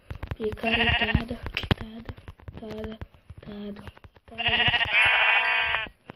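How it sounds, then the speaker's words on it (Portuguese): A sheep in the ARK Survival video game bleats loudly in several repeated cries as it is struck, with someone talking between and over the bleats. "Bora lá, ovelha, vamos matar já."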